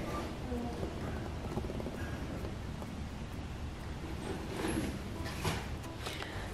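Steady rain falls outside in West Footscray, a dense, even patter of drops that holds at a constant level without a break for several seconds.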